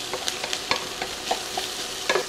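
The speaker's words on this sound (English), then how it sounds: "to stir this around for 30 seconds to release the flavors of the garlic all into the meat and the peppers and the onions" Garlic, ground meat, peppers and onions are stirred in a skillet for a one-skillet cheesy sloppy joe pasta, bringing a soft, steady sizzle broken by quick, close spoon scrapes and light clacks.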